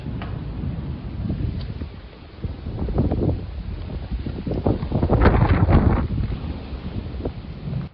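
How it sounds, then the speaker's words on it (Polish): Wind gusts buffet the microphone in heavy rumbling bursts on a mountain summit in Romania, with a steady wash of rain noise underneath. "cały czas pada deszcz, jest zimno i wieje wiatr"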